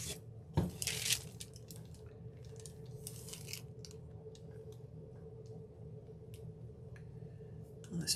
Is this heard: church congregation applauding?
no